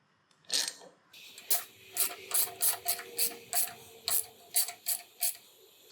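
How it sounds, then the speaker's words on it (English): A small wrench ratchets on an LS engine block, giving quiet bursts of rapid clicking that start, pause and resume in short strokes, with a faint background hum. "I'm gonna grab our little wrench here real quick."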